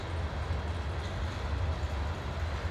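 Train cars roll steadily across a rock viaduct at a power plant, a continuous low rumble with a faint rhythmic clatter, heard from a distance without talk.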